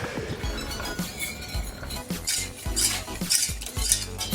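Cornstarch and flour are whisked into a milk slurry in a pot, making steady scraping and clinking strokes of a utensil against the cookware in a repeating stirring rhythm, close and fairly loud with no voices.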